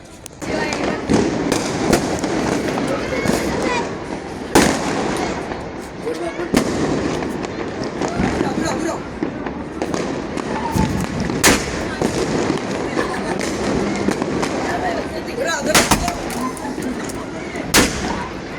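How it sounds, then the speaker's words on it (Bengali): Bursts of New Year firecrackers and fireworks go off in rapid, irregular bangs with loud sharp cracks and distant pops, while people talk and shout throughout. "সো এদিকে একজন বম ফুটে যাচ্ছে।"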